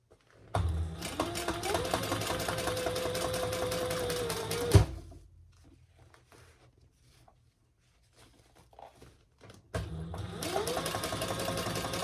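A sewing machine top-stitches a crossbody bag in two close, steady runs of rapid mechanical whirring, separated by a quiet pause with faint handling noises.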